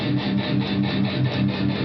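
A heavily distorted electric guitar through a Zoom G1on multi-effects pedal with its parametric EQ switched off, a dense, thick chugging wall of sound with a rolled-off top end, steady and loud, no voices.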